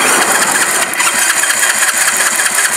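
A motorcycle engine with a carburetor and a fault that makes it misfire when the throttle is opened starts up and runs loud and close, with a dense, steady mid-pitched roar throughout.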